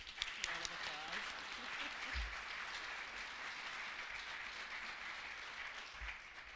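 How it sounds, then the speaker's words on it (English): An audience at a chamber of commerce annual breakfast gives a steady round of applause, dense clapping filling the room at an even level for several seconds. "So let's give Charla a big round of applause."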